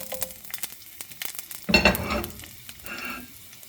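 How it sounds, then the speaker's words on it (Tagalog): Garlic and onion sautéing in olive oil for an octopus dish, with steady close sizzling, a louder burst as ingredients hit the pan, and light stirring clinks throughout. "Gisa lang natin siya."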